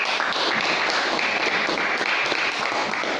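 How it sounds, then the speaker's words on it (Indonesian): A group in a classroom gets applause: dense, steady clapping from many students that carries evenly through the whole stretch, with no clear talk over it. "tepuk tangan untuk kelompok"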